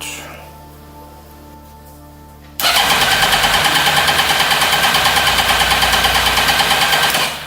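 A Suzuki GSXR engine swapped into a project vehicle cranks loudly and fails to catch, a steady rapid churning starter drone after a quieter stretch of background hum, with faint voices underneath.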